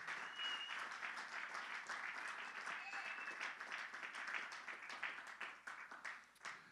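A church congregation applauds during a sermon, a full, fairly distant round of clapping that holds steady and then starts to taper off toward the end.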